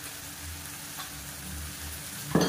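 Chicken is roasted in oil with spice powder, a steady close sizzle with soft stirring scrapes throughout and a louder clatter right at the end; no talking.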